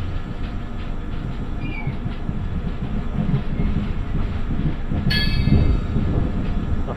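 The Vidarbha Express runs along the Mumbai-Howrah main line, heard from on board as a loud continuous rumble of wheels on rails with rhythmic clatter and a brief high squeal near the end.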